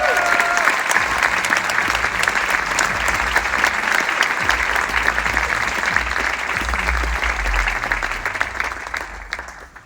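Audience applause at BMW's CES 2023 keynote, a large crowd clapping loudly and evenly for several seconds before easing off near the end, with a brief voice at the start.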